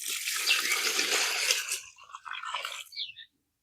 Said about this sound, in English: I'm splashing, splashing.